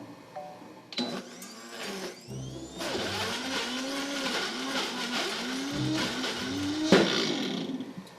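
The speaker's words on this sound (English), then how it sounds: "let's turn on the blender and make some delicious fig pudding." A kitchen blender whirs loudly as it purees dried figs into a raw vegan fig pudding, the motor roaring steadily with pitch shifts as the thick mixture churns, alone and close.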